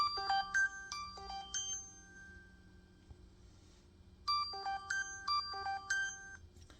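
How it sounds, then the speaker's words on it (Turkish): A mobile phone ringtone plays a bright, beeping electronic melody in two bursts with a short lull between, fairly faint and heard alone without speech. "Telefonum çaldı kusura bakmayın."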